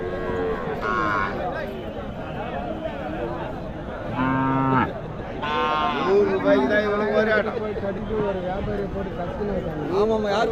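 Cattle lowing at a busy Tuesday cattle market, with several drawn-out moos in bursts over a constant murmur of people talking nearby.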